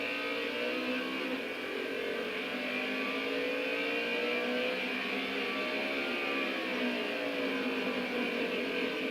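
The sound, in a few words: modified race cars racing on a track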